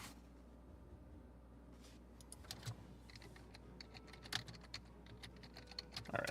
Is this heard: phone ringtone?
no